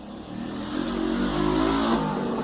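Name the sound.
motorcycle engine revving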